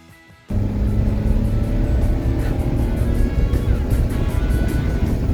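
A Lamborghini Espada drives with a steady, loud, close engine rumble that kicks in abruptly after a moment of quiet and holds evenly throughout.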